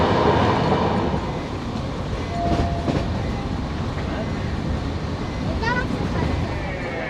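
A train pulls into Asansol station with a continuous rumbling roll and rattling carriages, a faint horn-like tone sounding briefly, and the noise stays loud and near throughout.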